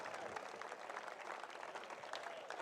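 Crowd applause at a beach volleyball match between Sweden and Italy, a steady wash of clapping and cheering that holds at a fairly even level throughout, with no clear voice standing out above it.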